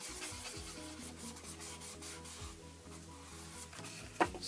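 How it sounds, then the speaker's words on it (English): A bone folder rubs firmly over folded paper while assembling a double flip-top paper box, giving a soft, steady scraping that runs continuously under background music, with one sharp tap near the end. "just rub inside with your bone folder just to help secure that down"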